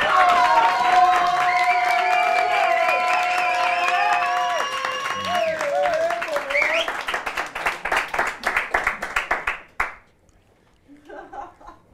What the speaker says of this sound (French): Je vous demande d'applaudir le grand Moln.